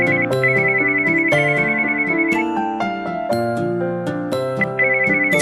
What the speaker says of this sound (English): Someone ringing the doorbell.